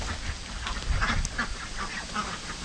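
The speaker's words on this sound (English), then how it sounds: "How you doing, ducks?" Ducks at a farm quack in short nasal bursts over a busy, splashy outdoor background, moderately close.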